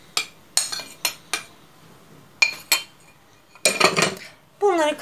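A utensil clinks and scrapes sharply against a bowl while profiterole ingredients such as starch and flour are mixed, in irregular close bursts with quiet gaps and a short swirling rub near the end.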